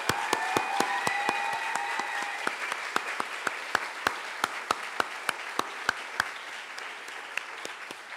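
Applause for award recipients at a 2012 university convocation ceremony: a sparse, steady run of sharp individual hand claps, fairly distant and thin, with a brief murmur of voices near the start.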